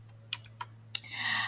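Keys tapped on a computer keyboard in a quiet room: a few isolated clicks, then a denser burst of soft typing near the end, with a steady low hum underneath.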